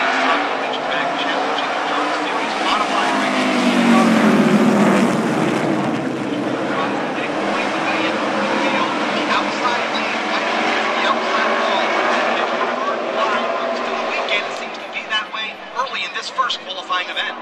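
NASCAR Camping World trucks racing on the Eldora Speedway dirt oval, a loud continuous engine roar that swells as the pack passes near, with an announcer talking over it throughout.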